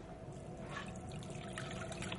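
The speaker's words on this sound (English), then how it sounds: "now into my slow cooker, I'm going to add" Beef broth and water pour into a slow cooker, a faint, steady trickle and splash that runs continuously for a couple of seconds.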